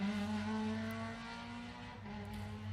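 Honda Civic Type R race car driven by a European-championship driver at the start line of a hill-climb event, its engine a loud, close, steady harmonic drone that dips and shifts pitch partway through, with no talk.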